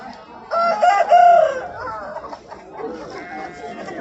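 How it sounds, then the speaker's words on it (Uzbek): A rooster crows once, loud and close, at a rooster market, followed by quieter clucking and faint chatter in the background. "Mana xo'rozlar qarang."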